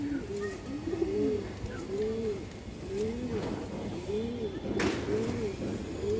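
A large khoira-gola male pigeon coos in a repeated rhythmic series of rising and falling calls, loud and close, with a voice talking intermittently over it.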